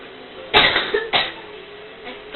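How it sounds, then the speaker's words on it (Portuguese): Two close, sharp coughs about half a second apart from a man playing Mario Kart 64, followed by a fainter third cough over a low steady background hum. "Todo episódio você tosse,"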